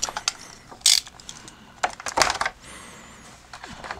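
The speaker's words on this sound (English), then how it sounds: "we do have a couple of the little plastic tabs holding the figure in. Let me cut those real quick." Small plastic tabs holding an action figure inside its packaging are snipped, giving a few sharp, close clicks and snaps with quiet gaps between them and no talking.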